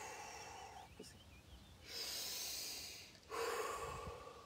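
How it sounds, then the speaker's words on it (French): Slow, deep exhalations during a guided breathing exercise, heard as two long, close breathy rushes of air after quieter intakes, with no talk. "Et vous soufflez."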